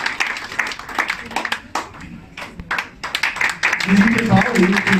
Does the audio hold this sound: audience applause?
yes